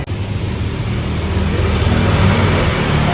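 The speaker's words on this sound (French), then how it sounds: "Hop là, notre petite scooter." A small scooter in Canggu, Bali, revs and pulls away. A close, continuous engine drone builds in intensity over the clip, mixed with broad road noise.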